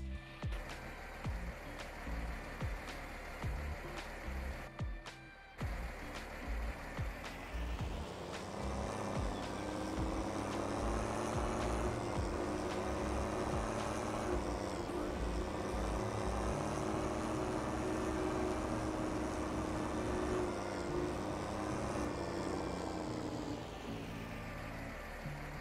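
A John Deere 8000 tractor's diesel engine in Farming Simulator 22, starting up after a brief idle, then revving and holding a loud, steady drone with shifting pitch as it works before easing back slightly.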